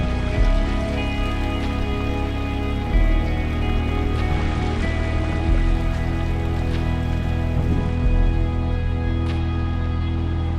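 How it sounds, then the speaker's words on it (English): Waterfalls tumble along Oak Creek in Oak Creek Canyon near Sedona, Arizona, giving a steady, close rushing wash of falling water that stays loud and even throughout, with no talk over it. "these waterfalls here"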